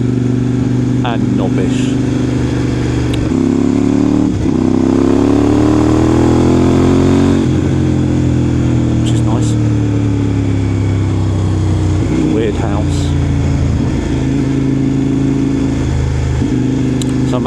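Kove 800X Pro motorcycle engine running close and loud, a sustained rumbling drone with rising and falling revs across the clip, someone talking over it throughout.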